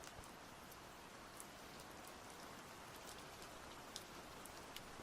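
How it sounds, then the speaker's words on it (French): Steady rain falls outside an open window, a faint, even hiss of a downpour with occasional sharper drips, continuous throughout and with no voices. "il s'est mis à pleuvoir"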